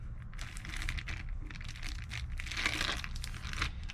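Marinated tandoori chicken is pulled out of a crinkly plastic bag, giving steady close rustling and crumpling with a few sharper crackles throughout.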